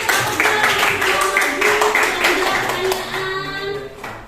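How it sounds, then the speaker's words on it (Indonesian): A school class claps together during a student-teacher competency exam lesson, a busy clatter of many hands under overlapping voices and chatter, fairly loud and continuous for a few seconds before thinning slightly. "Beri tepuk tangan dulu."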